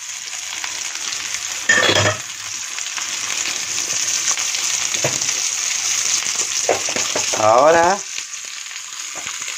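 Chopped onion and garlic sizzling steadily in a frying pan on medium heat, a close continuous hiss with a few clinks of stirring and a brief spoken word.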